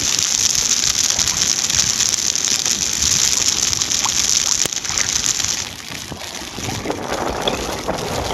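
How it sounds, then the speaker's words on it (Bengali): Light drizzle of rain falls on open water during a rainy-season fishing trip with china nets, making a dense, steady hiss with faint patters that eases slightly near the end. "গুড়ি গুড়ি বৃষ্টি নামতে আছে।"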